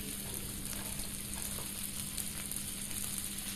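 Spring onion and shredded cabbage fry in a pan for egg chow mein, giving a steady, close, dense sizzle that holds evenly throughout with no talking.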